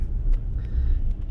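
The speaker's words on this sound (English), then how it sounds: "A lot of traffic today." Road traffic passing a moving Ram 1500 Big Horn 4WD on snowy island roads, a low steady rumble of vehicles close by, brief and without voices.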